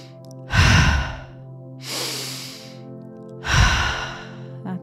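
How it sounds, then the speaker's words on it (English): Slow, deep breathwork breathing close to the microphone, three long airy breaths, strong inhale and exhale in a steady cyclical rhythm with quiet gaps between, no speech. "go ahead and start the breath pattern"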